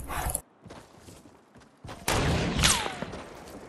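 Gunfire in a multiplayer video game, with a few scattered bangs and thuds followed by a louder burst of shots and a whistling ricochet-like sweep, with no talking over it.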